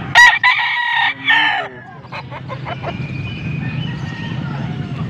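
A young gamecock bull stag crows loudly and close by, two drawn-out crows at the start, followed by scattered clucks and faint background noise.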